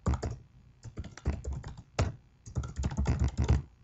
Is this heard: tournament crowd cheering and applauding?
no